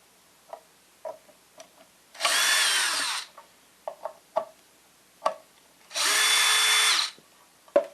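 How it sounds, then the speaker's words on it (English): A power drill spins out the neck bolts of a custom-built guitar in two sustained whirring bursts of about a second each, close and loud, separated by small clicks and taps of handling. "We can unbolt the neck."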